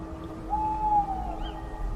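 A single soft owl hoot, one drawn-out note over a low, steady background rumble.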